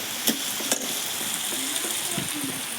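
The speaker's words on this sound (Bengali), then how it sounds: "এইবার আমি মাছের মাথাগুলো দিয়ে দেবো, দিয়ে একটু নাড়াচাড়া করে নেব" Fish heads sizzle and fry in a pan of cooked spice masala while being stirred, a steady close crackle with a few sharper scraping strokes of the spoon, no voices.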